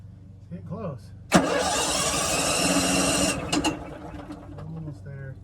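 An RV generator engine cranks in one sustained burst of about two seconds, a loud grinding turnover that cuts off abruptly, with faint chatter and bird-like chirps before and after.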